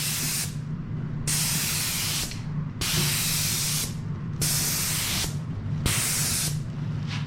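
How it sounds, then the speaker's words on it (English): A spray gun spraying lacquer hisses in five steady, evenly spaced bursts, each about a second long with short pauses between, close and fairly loud. "So let's take our gun and spray again."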